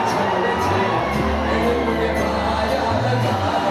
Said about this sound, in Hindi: बाकी तो भाई भीड़ बहुत थी,